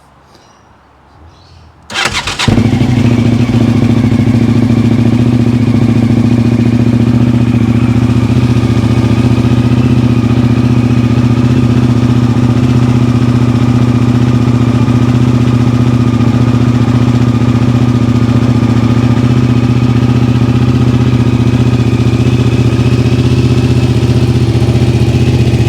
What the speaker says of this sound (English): Okay, let's just give it a cold start, see how we go. Cold start. Give it that fast idle.